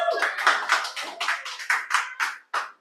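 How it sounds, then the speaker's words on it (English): An audience at a Toastmasters meeting applauds a speaker, with steady hand clapping that thins out toward the end into a few scattered claps. "let's give a round of applause for Toastmaster Amar"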